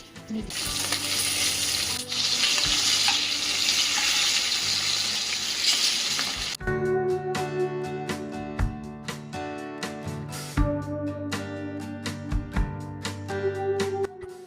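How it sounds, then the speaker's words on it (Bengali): Hilsa fish frying in a pan: a loud dense sizzle for the first half, then quieter crackling with distinct clinks and taps of utensils near the pan. "ইলিশ মাছটা বেশ ভালো করে ভাজা ভাজা করে ঝোলটা করবো"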